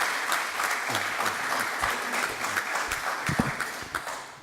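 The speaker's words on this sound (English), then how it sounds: "I think maybe hold the applause till the end." Audience applauds after a speech at a criminal justice debate, a dense wash of clapping with a few low voices mixed in, tapering slightly toward the end.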